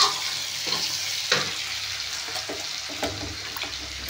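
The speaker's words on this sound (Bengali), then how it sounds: "পেঁয়াজটা আমি লাল করে ভাজবো না, তো মোটামুটি একটু ভেজে নেব" An onion fries lightly in a pan with a steady sizzle and a few stirring scrapes and spatula taps scattered through.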